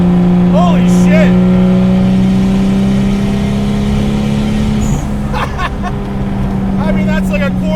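A 400 WHP 2JZ-swapped Datsun 260Z rat rod drones loud and close at steady throttle, its engine note holding firm while people talk over it.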